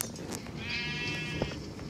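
A sheep in the video game Minecraft Bedrock gives one short, wavering bleat at close range, lasting under two seconds. Small clicks and game noises sit faintly in the background.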